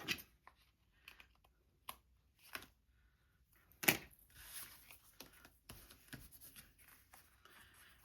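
Scissors snip a paper leaf off a craft tag, heard as sparse, quiet cuts and clicks with one sharper snap near the middle and soft paper rustling between them.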